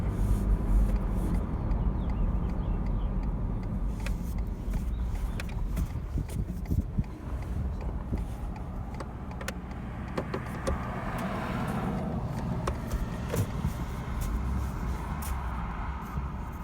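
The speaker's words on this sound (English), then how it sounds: "Oh, car coming." A car approaches and drives past on a farm lane by a gate, its broad tire and engine rumble swelling and then fading over several seconds.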